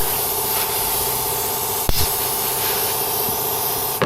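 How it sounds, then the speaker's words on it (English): Silicone spray hisses from an aerosol can onto seals during vehicle maintenance, a steady spray with a few short bursts and knocks, close and fairly loud with no talk. "Worth silicone spray. I find it very good on seals."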